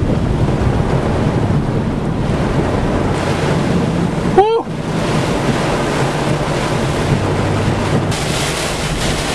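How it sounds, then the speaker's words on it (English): Floodwater rushing down a street outside a Walmart during a flood in Norman, Oklahoma, a steady loud roaring wash with wind buffeting the microphone and a brief sharp click partway through. "We got a river rolling down the street."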